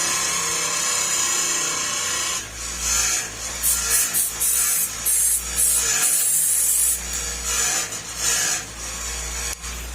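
Aerosol spray applied to motorcycle wiring during an electrical repair, in a series of close, loud hissing bursts with short gaps between them, over a steady low hum.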